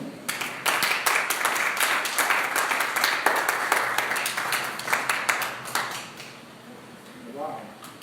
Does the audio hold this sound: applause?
yes